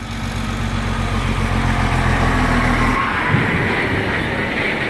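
Heavy truck loaded with mulch rolls past on a major wilderness road, a loud steady low engine rumble that drops away abruptly partway through, leaving fainter road noise and a small knock.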